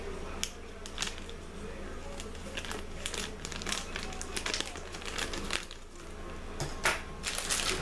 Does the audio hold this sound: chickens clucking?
no